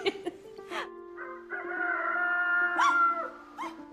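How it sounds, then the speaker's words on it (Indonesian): Chicken squawking and crowing close by, several drawn-out rising calls with short clucks in between, loud and clear with no talk over it. "Tuh ayam, berisik lagi kan?"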